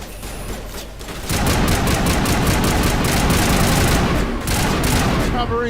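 Sustained rapid gunfire from the Mass Effect video game, dense overlapping bursts of automatic shots and booms running nearly continuously and loud after a brief quieter start, with faint voices mixed in.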